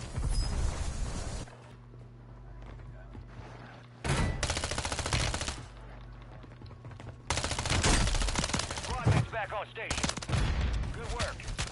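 Bursts of rapid automatic gunfire in a multiplayer shooter video game, coming in several loud clusters separated by quieter gaps, with scattered single shots and mechanical clatter in between.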